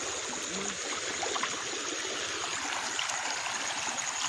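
A village river fills a small check dam and flows over it with a steady, rushing burble, close and continuous, with faint lighter trickles on top.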